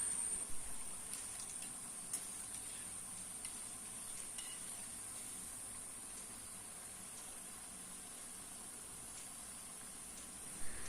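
Kuzhalappam frying in hot oil over a high flame makes a steady, faint sizzle and hiss throughout, with occasional light pops and scrapes and no talking.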